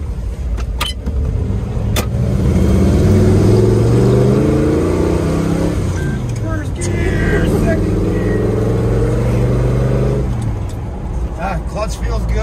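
A 1978 Ford Bronco's engine runs steadily as it is driven, a loud low rumble with rising and falling pitch through gear changes and some clicks from the cabin.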